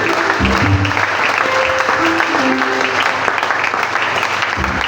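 A church congregation applauding loudly to praise the Lord, with dense, sustained clapping from a crowd and some voices mixed in underneath.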